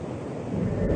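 Water rushes down at the Jati dam on the São Francisco transposition project in Ceará, a steady rushing roar mixed with wind noise that swells louder near the end, no speech.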